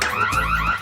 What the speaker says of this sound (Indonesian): Alarm, teman-teman.